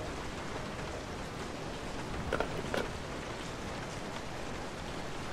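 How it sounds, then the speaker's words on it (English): Steady rain falls in the horror video game Resident Evil 7, a constant hissing wash of drops on surfaces with a couple of faint brief knocks partway through and no talking. "Is it raining? Of course it's raining."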